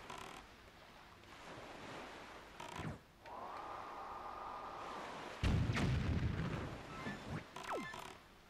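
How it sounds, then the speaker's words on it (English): A cannon fires in The Legend of Zelda: The Wind Waker amid constant ocean waves and wind, with a booming blast around the middle followed by rumbling surf and small game sound effects. "I like that they added this thing to help you aim with the cannon."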